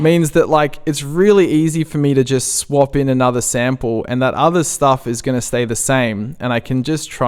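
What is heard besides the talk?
None of the usual background noises is heard.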